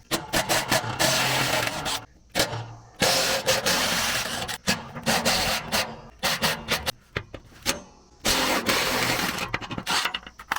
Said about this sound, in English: So we're going to use this socket and take off all 4 bolts.